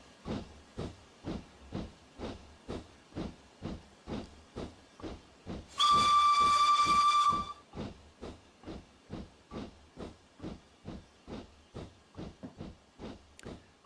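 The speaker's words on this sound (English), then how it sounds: "The whistle sound is apparently authentic." A steam locomotive on the Darjeeling Railway in Train Simulator Classic gives one long, loud whistle blast of about a second and a half, over a steady, regular chuffing exhaust that runs throughout.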